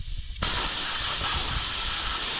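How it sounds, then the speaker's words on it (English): After a short quiet moment, air bursts out and keeps hissing loudly and steadily from a tractor tire as its bead is being seated, a harsh close rush with no talking. "So air is escaping somewhere"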